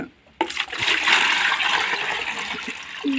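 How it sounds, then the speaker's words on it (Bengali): Strained water, tinted reddish, is poured into a bucket for pigeons, a steady rushing gush lasting about three seconds after a short silence, close and fairly loud with no talking. "জলটা ছেঁকে নেওয়া হচ্ছে নিয়ে আবার এই বালতিটা ঢেলে নেওয়া হবে"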